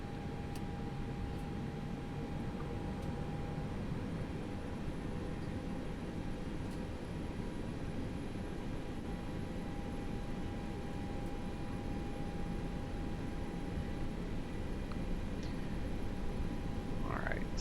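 Airbus A320 jet engines roaring steadily during a takeoff roll in the X-Plane 11 flight simulator, a loud continuous broadband rumble with a faint high whine rising in pitch, unbroken throughout.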